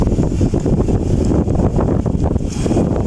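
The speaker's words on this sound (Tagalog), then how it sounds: "Lakas ng hangin, mahangin." Strong wind buffets the microphone during a downhill bike ride in Binangonan, Rizal, a steady, loud low roar with no clear pauses, giving a rushing, blustery sound throughout.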